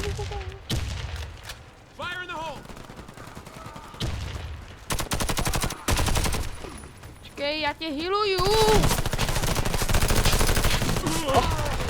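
Rapid bursts of gunfire in the video game Warface crackle loudly throughout, with someone talking in Czech over the shots and sharp explosive hits between volleys.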